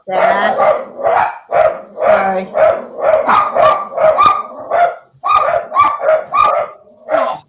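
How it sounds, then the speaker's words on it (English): Dogs bark repeatedly in steady, loud bursts close by, almost continuously, with a voice briefly speaking over the noise in a home kitchen setting. "There's dogs barking."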